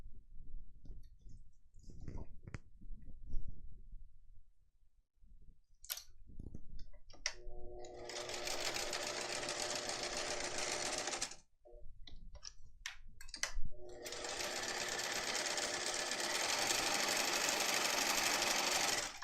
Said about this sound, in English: I'm sewing right by the zipper tabs, not over them.